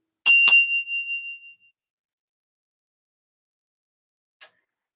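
Two quick bright bell chime strikes ring out at the start and fade over about a second. A faint tiny tick follows after silence.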